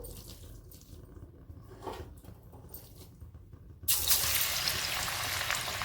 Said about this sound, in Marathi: तेल गरम झालेलं आहे आता आपण भजे टाकून घेऊ